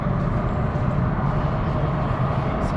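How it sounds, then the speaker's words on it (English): Madrid metro trains rumbling through a station, a steady loud low roar of rail noise filling the space with no break. "Sounds like this is going to be a clash of trains."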